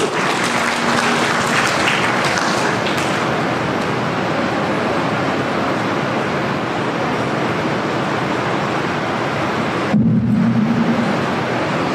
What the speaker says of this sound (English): A round of applause to Pritesh, please.